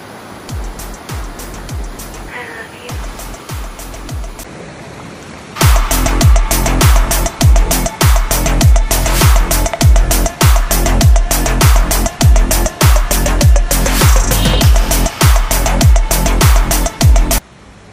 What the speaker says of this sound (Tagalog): Hanapin natin ang falls.